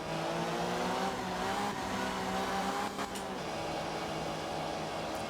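A front-wheel-drive rally car in the video game Art of Rally powers out of a slide, its engine droning steadily with a shifting rising pitch and a brief dip midway, with no talking.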